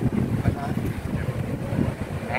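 Strong wind rushing across an open field near a bridge while a large 4-metre flute kite flies, a constant buffeting roar against the microphone with faint voices in the background.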